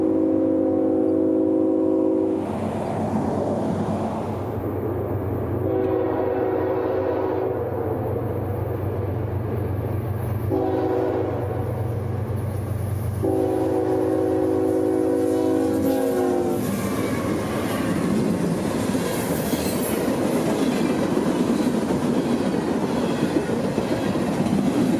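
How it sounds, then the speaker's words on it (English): Train L743 rumbles past southbound between Baldwin and Callahan with several long, muffled horn blasts, then wheels clatter rhythmically on the rails as the loud passing noise builds. "all trains today would have a very cool, muffled sound as they'd approach"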